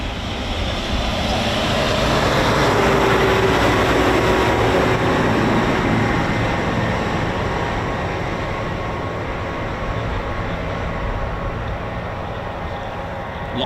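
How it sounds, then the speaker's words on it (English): Eurofighter Typhoon FGR4, a tranche 3 airframe, at RAF Coningsby, a loud broad engine roar holding steady and easing slightly, close and without voices. "This is a Typhoon FGR4."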